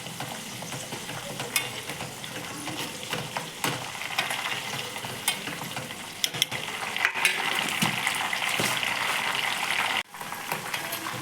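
Homemade hair oil with cloves sizzles and bubbles steadily in a pan on the stove, a dense continuous frying crackle with occasional stirring clinks, close and fairly loud throughout.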